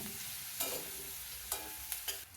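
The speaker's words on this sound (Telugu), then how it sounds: "ఉల్లిపాయ ముక్కలు ట్రాన్స్పరెంట్ అయ్యే వరకు వేయించుకుందాం." Onion pieces frying in a pan for mutton masala, with a steady sizzle and several scraping stirs of a spoon, no voices.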